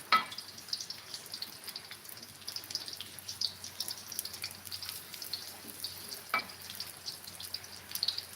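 Sliced shallots and garlic sautéing in a pan for nasi liwet, a steady soft crackling sizzle with a few sharper pops, moderately close and with no talking.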